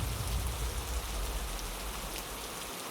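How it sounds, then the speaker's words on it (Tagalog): Heavy rain pours down in a steady, dense roar that fills the scene at a waiting shed, with no voices. "Habang papunta sa presinto ay naabutan ng malakas na ulan si Danny."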